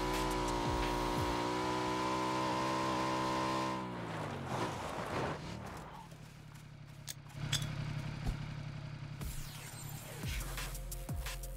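A motorcycle engine in the video game PUBG gives a loud, steady droning hum for several seconds, then its pitch drops and shifts into rougher, revving engine noise as the bike keeps moving.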